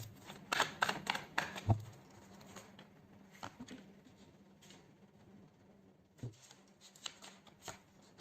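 Tarot cards shuffled and handled in a quiet room, with brisk riffling bursts early on, then softer scattered card slaps and taps, and a few more flicks near the end.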